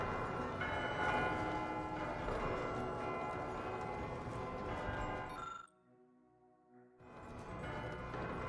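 Church bells in a sci-fi game ring loudly all together in a thick, sustained peal, then drop to a brief quiet lingering hum before the ringing swells back in.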